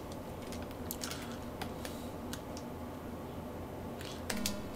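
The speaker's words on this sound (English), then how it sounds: "Right, push a key." Keys clack on an Amstrad CPC computer keyboard during a BASIC game, a few sparse, fairly close presses scattered over a low steady background hum, with no voices.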